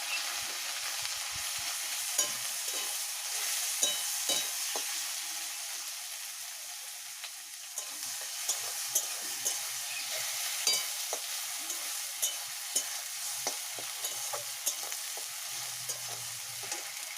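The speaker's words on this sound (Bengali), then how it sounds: "পেঁয়াজ বাটা, এবার ভালো করে নাড়বো।" Garlic and onion paste frying in a pan for a duck egg curry, with a steady hiss of sizzling oil and repeated scraping strokes of a spoon stirring it, close and continuous throughout.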